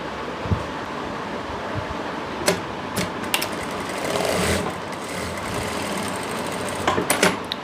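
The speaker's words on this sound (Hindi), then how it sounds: "इसके अंदर भी हमें नीचे से सिलाई लगाते हुए ऊपर तक जाना है।" A sewing machine stitches the seam of a palazzo pant, a steady low mechanical whir running throughout with a few brief sharp clicks and bursts as the fabric is adjusted; no one speaks.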